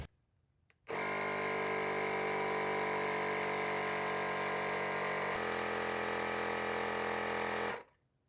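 An electric pump inflates the tire of a Onebot S7 folding eBike to 55 psi, giving a loud, steady mechanical drone that starts abruptly, drops slightly in pitch partway through, and then stops.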